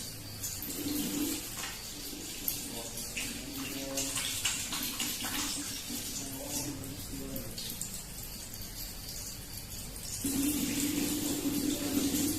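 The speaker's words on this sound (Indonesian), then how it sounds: "Selanjutnya kita basuhi tangan mulai dari ujung jari tangan hingga ke ujung siku." Tap water runs steadily while hands are washed up to the elbows at a clinical skills lab sink, with a few faint bird coos and a brief soft voice in the background; the flow grows slightly louder near the end.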